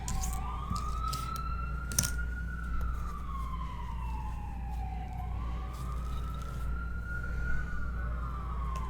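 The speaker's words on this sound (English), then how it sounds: "now I've got sirens" Emergency vehicle sirens wail in long, slow rising and falling sweeps at a moderate distance over a constant low traffic rumble.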